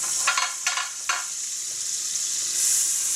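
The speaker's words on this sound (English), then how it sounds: "in the large pan, in goes our butter" Butter sizzling in a large pan for arancini, a steady bright hiss with a few short crackling bursts early on, then an even sizzle that swells slightly toward the end, with no talking.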